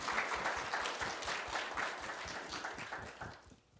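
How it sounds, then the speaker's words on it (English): A town hall audience applauds with steady, dense clapping that holds for several seconds and then fades away near the end. "I want to give y'all a round of applause for being here to have this conversation."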